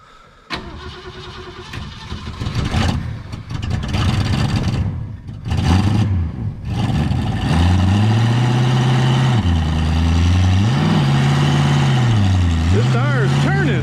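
A 1964 Ford Fairlane 500 hardtop, not run in years, cranks and fires, then settles into a loud, steady idle with a few rises in engine pitch, while people talk nearby.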